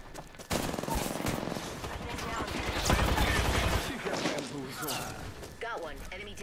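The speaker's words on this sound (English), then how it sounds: "I'm taking shots. Opening fire." Rapid bursts of gunfire from an Apex Legends firefight, dense and continuous, with a voice talking over the shooting.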